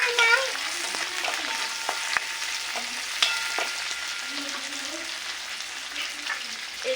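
Tomatoes frying in a pan of oil for a spicy rui fish curry, a steady bright sizzle with soft stirring scrapes and a few sharper clicks, with no voice over it.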